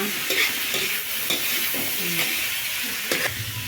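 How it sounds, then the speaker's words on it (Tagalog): Food sautéing in a frying pan, with a steady sizzle under repeated scraping and stirring strokes of a utensil against the pan, close and moderately loud, with no talking. "Tigisa-gisa mo yan"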